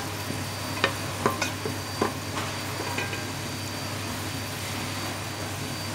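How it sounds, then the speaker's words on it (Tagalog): Onions sautéing in a pan for homemade tuna with cabbage, a faint low sizzle under a steady hum, broken by a few soft spatula clicks early on. "gisa lang naman natin siya."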